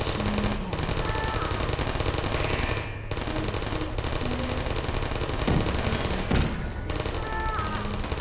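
Turrets in Portal fire sustained rapid bursts that fill the scene, loud and steady with brief gaps between volleys and scattered game effects over the top.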